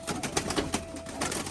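A biscuit-coloured pigeon gives a brief, faint coo close by, with soft rustling behind it.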